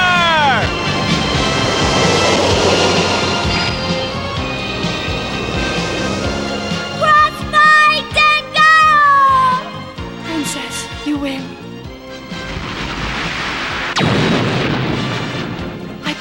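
Anime mecha combat from the 1987 English dub of Dangaioh: a heavy blast and rumbling explosion as the Spiral Knuckles attack fires, layered with a dramatic musical score and sweeping synthesized effects.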